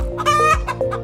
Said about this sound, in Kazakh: Тауық қытқыттайды.